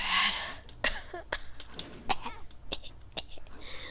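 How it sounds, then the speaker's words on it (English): A sick man coughs several times in short, harsh bursts with throat clearing and breathy sounds between them, close and fairly quiet, while playing a video game. "I need to cough so"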